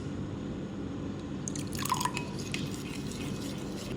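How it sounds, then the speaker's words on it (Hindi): A few tablespoons of water are poured into a yogurt mixture for degi-style chicken biryani, a brief soft splash and drip near the middle, faint against a quiet steady background. "थोड़ा सा पानी डालूंगी इसमें,"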